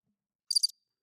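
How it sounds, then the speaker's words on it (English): A short cricket chirping sound effect played from an audio mixer: a single quick burst of high, pulsing trills, isolated in silence. "Got a chance to use the crickets?"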